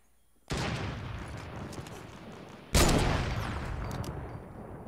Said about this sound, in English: There's a guy on the ground shooting up at them.